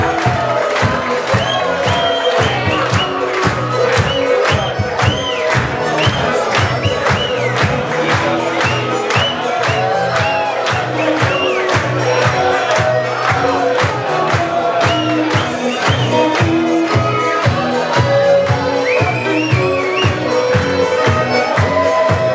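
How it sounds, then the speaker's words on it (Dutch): Loud, steady crowd cheering and applause at a team celebration for a football squad in Raalte, with dense clapping, whoops and shouts filling the whole stretch without a break. "Een groot applaus."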